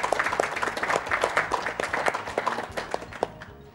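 A short burst of clapping at a speedrun event, a few people applauding at a quick uneven pace, fairly close, fading out near the end.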